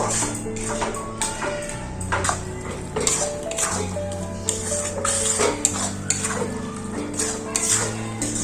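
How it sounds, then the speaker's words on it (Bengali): A spoon scrapes and taps in a pan of ridge gourd, onion and poppy seed paste with green chili, a busy run of close metallic clinks over a faint sizzle. "একটু নাড়াচাড়া করে নেব"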